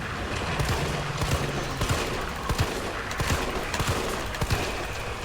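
Rapid pistol gunfire in Resident Evil 3, sharp shots popping in irregular bursts over a busy, noisy game soundtrack with no talking.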